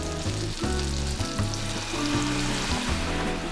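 Food fries in a pan on low heat with maple syrup added while making a squash egg in a hole, a steady close sizzle with crackling pops and no talking.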